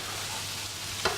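A half teaspoon of butter melting in a hot pan on high heat, a steady soft sizzle and hiss close by, ending with a brief clank.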